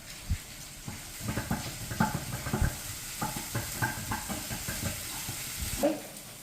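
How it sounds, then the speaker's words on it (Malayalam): Jackfruit seed pieces sautéing in a pan, stirred with a spatula that scrapes and taps in an irregular rhythm over a soft frying hiss, close and fairly quiet with no talk. "അപ്പോൾ അതിനൊന്ന് നമുക്ക് വഴറ്റിയിട്ട് വരാം"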